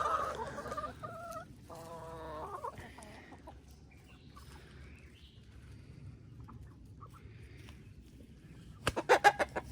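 Hens cluck and squawk in short bursts, then a rooster crows loudly near the end, with quiet farmyard background.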